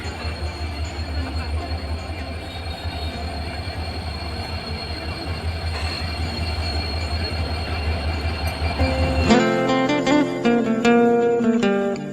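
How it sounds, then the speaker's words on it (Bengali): A train pulls into a railway junction platform with a steady rolling rumble, then sharp, high wheel and brake squeals ring out near the end; voices and station bustle are faintly present. "এই যে সবাই নামছে আমাদের ট্রেন এসে পড়েছে"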